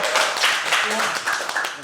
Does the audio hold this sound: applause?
yes